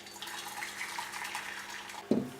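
Boiled water pours steadily into a pan on a stove: a continuous close splashing rush lasting a couple of seconds, ending in a brief louder slosh.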